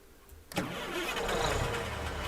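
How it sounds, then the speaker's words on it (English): A simulated train diesel engine in Train Sim World 2 cranks and catches with a sudden burst, then settles into a steady, loud rumbling idle. "shall we turn the engine off and then turn it back on just to see what it sounds like?"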